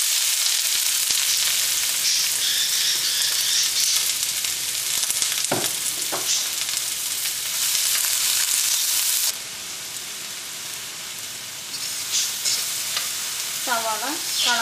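Onions sizzle loudly in hot oil for Kerala-style ginger chicken, a steady crackling fry with stirring scrapes throughout and a brief drop in intensity partway through.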